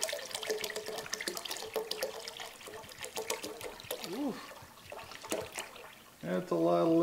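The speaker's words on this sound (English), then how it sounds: "That's a lot of liquid going into the pot." A large amount of liquid for an apple pie drink is poured into a pot, making a steady trickling, splashing flow under ongoing talk, with a brief musical tone near the end.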